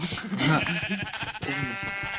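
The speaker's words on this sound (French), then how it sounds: "Oh bah, des moutons, on va en profiter." Sheep in the Minecraft video game bleat in a short, wavering call, followed by a second bleat, with game sounds underneath.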